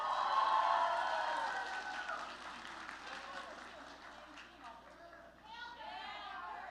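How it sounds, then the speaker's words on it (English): An audience at a live anniversary showcase in Hollywood claps for a translator, moderate applause that fades gradually with cheers and voices mixed in. "so a round of applause"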